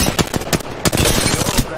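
Gunfire in the Apex Legends video game, a fast rattling burst of close, loud shots with brief gaps, under a player's brief callouts.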